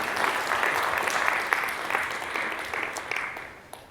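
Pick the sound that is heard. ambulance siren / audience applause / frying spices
audience applause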